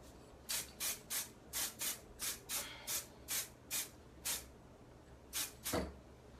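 A spray can lets off about a dozen quick, short hissing bursts in a steady stop-start rhythm, fairly faint and close, with no talking.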